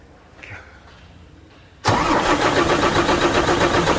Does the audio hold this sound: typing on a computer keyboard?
no